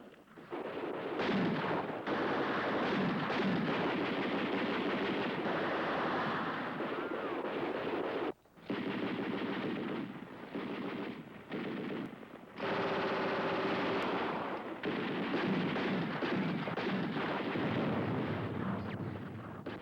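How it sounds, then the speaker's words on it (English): Heavy automatic weapon and artillery fire in a 1962 TV drama battle scene, a loud dense barrage of rapid bursts and booms sustained throughout, with two brief drops in intensity. "That is heavy automatic fire."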